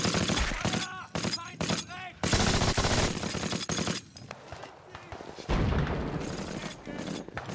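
Machine gun fire and gunshots in a Second World War battle scene from a war drama, bursts of rapid loud fire with explosions mixed under shouting voices.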